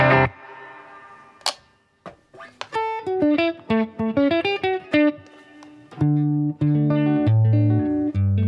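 Clean electric guitar played through a Boss Katana 50 Gen 3 amp with reverb, a strummed chord ringing out, then picked single-note runs and arpeggios, ending in loud sustained chords with a wash of reverb tail, no talking.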